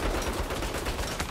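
A gun turret in Saints Row fires a dense, continuous rattle of rapid shots, steady and fairly loud throughout a short burst.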